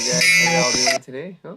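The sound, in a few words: alarm buzzer going off at 6 o'clock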